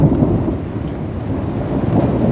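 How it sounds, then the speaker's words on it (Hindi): Loud thunder rumbles continuously through steady rain in the mountains, a deep rolling roar filling the whole stretch with no voices. "बड़ी तेज ठंडरिंग हो रही है"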